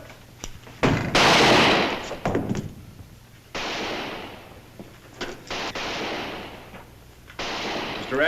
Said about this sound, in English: Will you stop shooting?